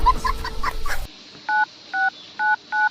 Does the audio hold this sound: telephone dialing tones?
yes